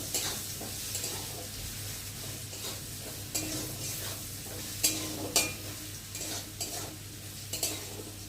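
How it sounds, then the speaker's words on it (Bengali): Fried potatoes with a little sugar are stirred in a pan over a low, steady sizzle, with repeated scrapes and knocks of a metal spatula. "চিনিটা দিয়ে দিলাম, দিয়ে একটু ভালো করে নেড়ে নেব।"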